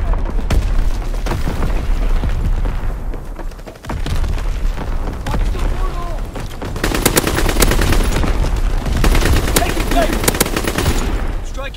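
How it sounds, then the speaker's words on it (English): A division artillery barrage in Call of Duty WW2 pounds away with continuous booms and explosions mixed with rattling machine-gun fire, loud and dense throughout, with a brief dip before the shelling resumes. "Firing division artillery."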